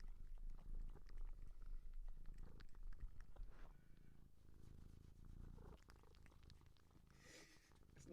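A cat purrs close by in a steady, continuous low rumble that runs through the whole stretch, with small rustles and faint background sounds over it.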